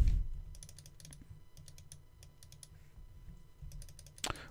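Quiet clicks of keys pressed on a computer keyboard, a sparse, irregular run of light taps in a calm room, ending with a louder thump.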